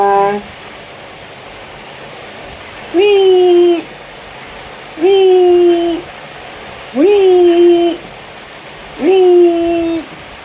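A dog howls four times in drawn-out, wavering cries, evenly spaced about two seconds apart, fairly loud over a quiet background.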